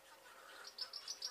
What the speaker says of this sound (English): There's the birds in the background.